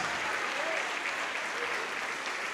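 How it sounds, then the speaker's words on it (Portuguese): A church congregation applauds in a dense, steady wash of clapping that keeps an even level from start to finish, with faint voices mixed in. "vamos aplaudir mais, igreja"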